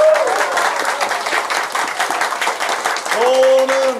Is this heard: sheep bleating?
no